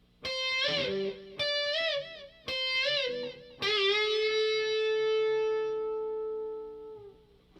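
An electric guitar riff with a distorted tone: three quick picked phrases with fast bends and releases, then a long bent note that rings out and slowly fades.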